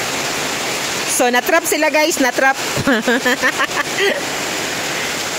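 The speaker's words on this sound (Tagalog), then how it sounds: "Dili na sila kalakaw kay kusog man ang ulan" Heavy rain pours as a steady, loud hiss around people caught out on motorbikes, with a person talking over the downpour for most of the stretch.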